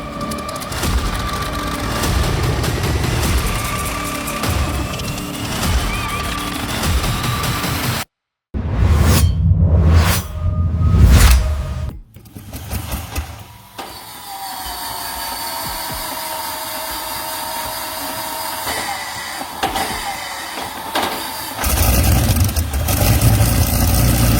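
Rare vintage engines, likely including an Allison V1710 V12 aircraft engine, crank and fire up, a loud rough roar with sharp bursts and a brief cutout, then a steady heavy drone and renewed rumbling.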